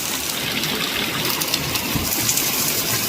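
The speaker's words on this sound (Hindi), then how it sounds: "बारिश ने जो है देखो अब और बिकराल रूप ले लिया है।" Heavy monsoon rain pours down in a steady, loud, rushing wash of water that fills the whole scene, with no one talking.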